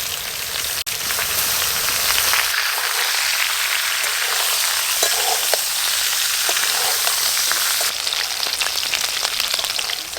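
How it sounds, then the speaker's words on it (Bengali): Boiled jackfruit and potato frying in hot oil, a steady dense sizzle that hisses on without a break, close and loud, with faint scraping now and then. "সেদ্ধ করা এঁচড় আর আলু খুব ভালো করে লাল লাল করে ভেজে নিয়েছি"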